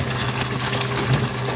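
A fish fillet dropped into hot cooking oil, a brief, dense, steady sizzle and bubbling, fairly loud and close, with no talking.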